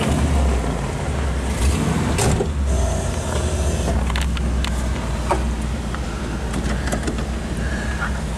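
A 1964 Ford Thunderbird with a V8 pulls away and drives, a steady close engine rumble with road and cabin noise throughout.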